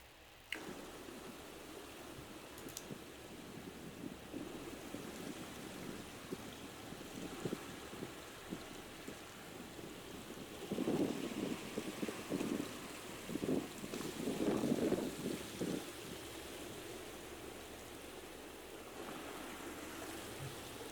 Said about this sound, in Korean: 지금 한참 물이 들어오고 있어요. 바닷물이 들어오고 있거든요.